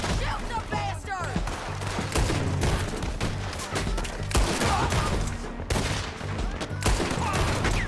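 Dense rapid gunfire in a Red Dead Redemption 2 shootout, a loud continuous volley of overlapping shots with sharp cracks, shouting voices faintly mixed in.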